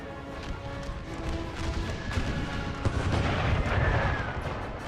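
Cannon and artillery fire in an American Civil War video game mod come as a dense, rumbling stream of booms and distant shots over battle noise. Soft crackling runs beneath them, and no voice is heard.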